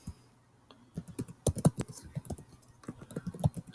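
Quiet, quick keystrokes on a computer keyboard entering vim shortcuts, an irregular patter of light clicks that starts sparse and then thickens into steady typing, with no voices.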